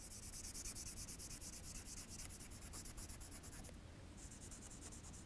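A pencil scratches back and forth as a child colors inside a frame on paper. The strokes are close, quiet and continuous, with a brief pause near the end.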